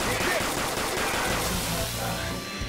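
Dense, continuous gunfire from the Persona 5 video game during a labyrinth battle, a loud sustained barrage of overlapping shots running through the whole moment without pause.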